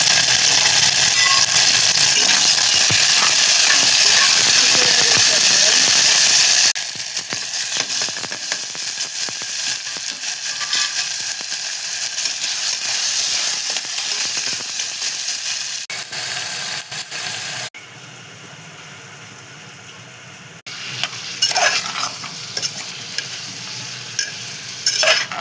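Mustard seeds, cumin, onion and ginger-garlic paste fry in hot oil in a home kitchen, a steady loud sizzle that drops in level as more ingredients go in, with occasional stirring scrapes and clinks.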